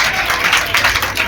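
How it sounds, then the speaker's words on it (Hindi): Children in a classroom applauding together, a short burst of dense, even clapping close by and fairly loud throughout. "जोरदार तालियां बच्चों।"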